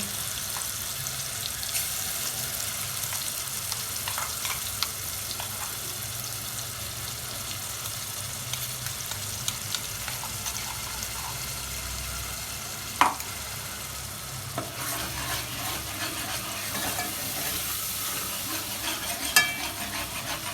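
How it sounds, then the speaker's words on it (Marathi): Ground masala paste for Dhangari chicken sizzles steadily in a pan while being stirred, a close, even frying hiss with occasional sharp spoon knocks against the pan. "आता वाटणाला चांगलं फ्राय करून घ्यायचं आहे"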